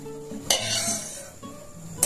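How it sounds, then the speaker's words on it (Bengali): Food frying in hot oil, a steady close sizzle broken by sharp clatters of a metal utensil against the pan. "এইভাবেই আপনাদেরকেও ঠিক ভেজে নিতে হবে"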